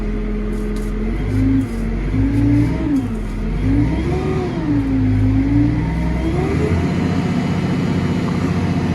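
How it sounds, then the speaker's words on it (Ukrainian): A Deutz 6205 tractor's diesel engine running up close, its pitch rising and falling as it revs in waves, with a deep rumbling drone throughout. "Чути вібрація двигуна"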